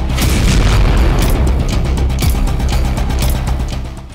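A massive explosion from a drone attack in Toropets, Russia rolls on as a loud, dense booming rumble with repeated crackling bursts, holding steady before fading slightly at the end.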